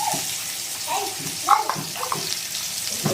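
Thinly sliced onions go into hot oil with a sudden watery hiss that settles into a bubbling sizzle under a voice.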